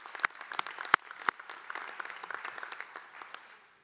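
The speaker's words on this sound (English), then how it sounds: "Round of applause." Scattered applause from a commencement audience, with sharp individual claps standing out early and then thinning into a steady patter that continues for several seconds.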